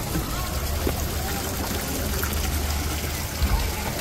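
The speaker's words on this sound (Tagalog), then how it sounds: "Kabayo na bumubuga ng tubig." A horse statue fountain spouts steadily, a constant rushing splash of water with faint voices mixed in the background.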